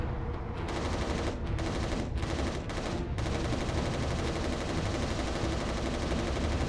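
Sustained rapid gunfire from the video game Resistance: Retribution, a dense, loud, continuous stream of shots with brief gaps early on, heard alone without talk.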